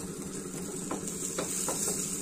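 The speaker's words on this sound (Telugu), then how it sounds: "నాకు ఈ ఆయిల్ ఉంది కదండి, దీనిలోనే వేయించుతాను." Chillies sizzle and crackle steadily in oil in a pan, with a few soft stirring scrapes mixed in.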